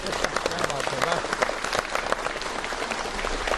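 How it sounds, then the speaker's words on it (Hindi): Studio audience applause for a young poet on a DD UP television show set, a dense, steady wash of clapping hands that fills the whole stretch at an even level with no voices over it. "जोरदार तालियों के साथ"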